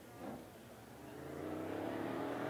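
A NeSmith late model race car on a qualifying lap at 411 Motor Speedway, its engine droning and swelling as it accelerates, heard from a distance and growing steadily louder.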